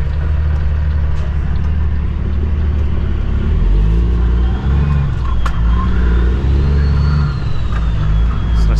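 A truck engine rumbling and revving through its exhaust pipes, loud and close with a steady low drone and rising pitch swells, no talk over it.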